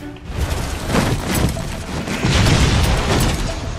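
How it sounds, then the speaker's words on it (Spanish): A Halo 4 multiplayer explosion amid ongoing combat, with heavy booming blasts and rattling bursts rolling loudly over several seconds. "¡Ah! ¡Explosión!"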